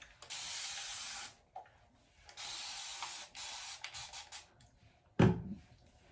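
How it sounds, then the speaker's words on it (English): A spray bottle spraying water onto hair, hissing in several long bursts and a few quick short squirts, close and fairly quiet, followed by a soft rustle. "I'm going to spray it with water first."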